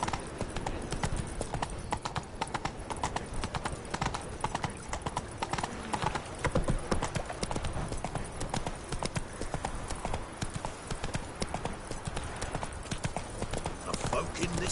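Roach, Geralt's horse in The Witcher video game, trots with a steady, dense clip-clop of hooves throughout, layered over game music and ambient background sound.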